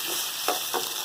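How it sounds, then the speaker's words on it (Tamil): Crushed garlic added to onions sautéing in hot oil in a pan for a Tamil lentil-ball curry, giving a steady frying hiss with two brief stirring bursts partway through. "அந்த பூண்டையும் போட்டு நல்லா நம்ம வதக்கிக்கலாம்"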